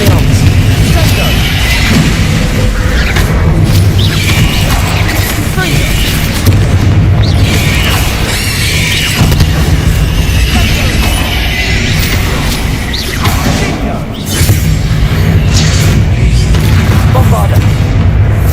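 Booming Bombarda spell blasts go off in the video game Hogwarts Legacy over dense, continuous game music and effects. The explosions sound loud and heavy and keep coming through the whole stretch.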